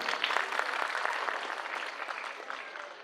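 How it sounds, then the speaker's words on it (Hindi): Dense, sustained audience applause fills a hall at a motivational family business gathering, loud at first and tapering slightly toward the end. "जोरदार तालियां अपने लिए बजाइए।"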